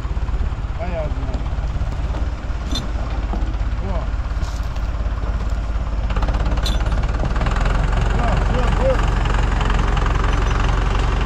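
Enter 654 tractor engine running loudly on a village off-road outing, a constant heavy rumbling drone that grows slightly stronger in the second half, with people talking over it.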